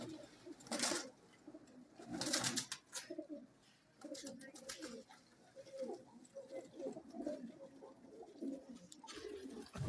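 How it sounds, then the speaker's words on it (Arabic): Caged pigeons or doves coo in repeated soft, rounded phrases close by, with a few brief sharper bursts of noise between calls. "هاي الطيور"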